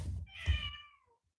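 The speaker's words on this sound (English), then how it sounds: "Sorry for my cat." A house cat meows once, loud and close, a drawn-out cry that trails off into quiet after a soft thump at the start.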